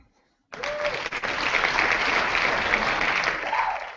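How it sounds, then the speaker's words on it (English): After a short silence, steady applause from a studio audience at a Survivor recap show starts abruptly and continues evenly, moderately loud and close, with a faint voice at the end. "That's very sarcastic applause"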